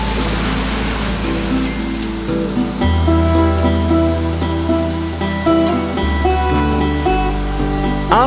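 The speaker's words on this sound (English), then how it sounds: "this waterfall exceeds my expectations" A waterfall in Indonesia roars as a constant rushing wash of water, close and loud, with a steady tonal drone and faint higher tones layered over the noise.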